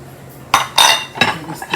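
A utensil scrapes and clinks against a bowl while peanut butter cookie ingredients with oil are mixed, a few quick, loud strokes close up and no talking.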